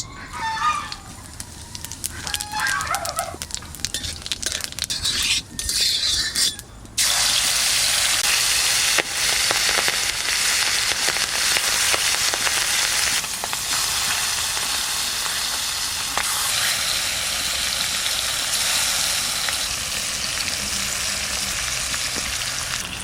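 Dried red chilli and cumin hit hot mustard oil in a wok, bursting into a loud, sustained crackling sizzle after a quieter opening, while a rooster crows in the background.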